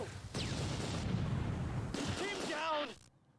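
Gunfire from the wartime strategy game Close Combat 2 crackles in a dense, continuous rattle of shots and booms, fairly loud and sustained, with a brief voice near the end before it cuts out.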